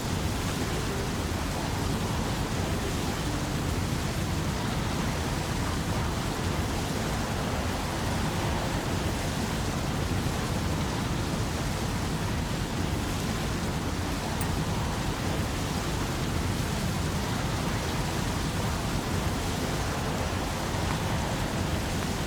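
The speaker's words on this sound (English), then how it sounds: "Go away, tornado." A tornado storm in the Tropico 5 video game brings steady, dense rain and wind noise that stays loud and even throughout, with no breaks and no voices.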